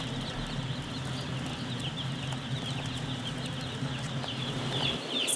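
Chickens in a farm poultry house, a dense steady chorus of clucking and chirping birds under a constant low mechanical hum, with no one talking.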